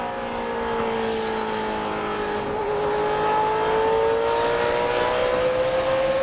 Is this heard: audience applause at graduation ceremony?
no